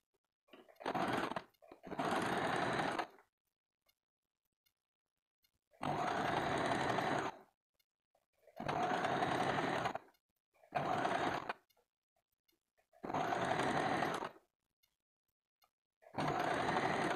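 A sewing machine runs in steady bursts of a few seconds each while stitching the katori cups of a blouse, its fast, even mechanical whir broken by quiet pauses, close and alone with no talking.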